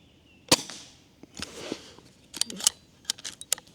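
Air rifle shots firing Crosman Premier 14.3 grain pellets, a series of faint, sharp clicks and snaps spread irregularly over a few seconds with quiet handling noise between them.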